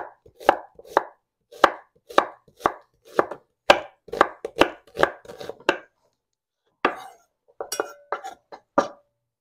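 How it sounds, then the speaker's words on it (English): A home cook chops a garden-grown onion with a knife, a steady run of about a dozen crisp, close knife strikes on a cutting board, then a short pause and a few more quick chops, with no talk. "go ahead and chop up your onion now"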